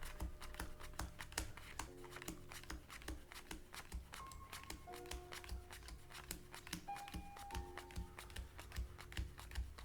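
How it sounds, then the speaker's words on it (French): Playing cards are dealt one at a time onto a table during a card trick, a steady run of light, close, soft taps with faint tones in the background. "il va distribuer 26 cartes."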